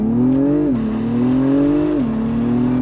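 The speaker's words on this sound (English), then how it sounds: "Let's do a quick launch control." An Acura TLX Type S leaves on a launch-control start, its engine roaring loudly and close from inside the cabin. The pitch climbs steadily, with two quick upshifts that briefly drop it, and no one speaks.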